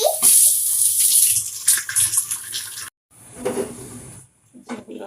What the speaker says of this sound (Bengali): এখন একটু পানি ঝরুক